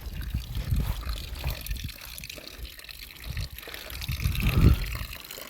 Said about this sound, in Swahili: Naona ni chemchemu hii.